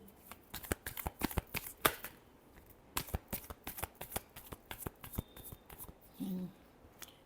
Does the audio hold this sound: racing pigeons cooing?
no